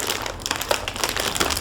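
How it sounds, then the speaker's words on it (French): Plastic snack packaging, a tough popcorn wrapper, crinkles and rustles continuously close up, a dense crackling texture without pauses. "C'est plein d'indestructibles, ces emballages"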